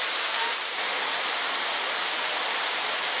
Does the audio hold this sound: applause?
no